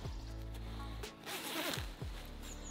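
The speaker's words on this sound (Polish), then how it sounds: "Tu jest suwak na środku." A zipper on a large down sleeping bag is drawn along its length in a few long, close, rasping pulls, loud and alone with no talking.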